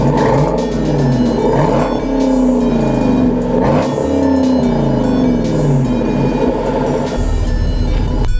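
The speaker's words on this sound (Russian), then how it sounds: "Давайте я сейчас поставлю камеру и погазую." A two-litre car engine revs loudly and continuously with a deep, throaty exhaust rumble, pitch rising and falling through several throttle blips, very close.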